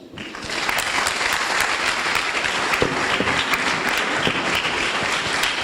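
School audience applause, a steady wash of many hands clapping at moderate distance without letup.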